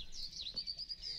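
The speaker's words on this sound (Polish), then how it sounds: "O, dwa ptaki w domu." Birds indoors in a Minecraft house, a few high thin chirps and tweets repeating quickly over a faint quiet background, with no talk.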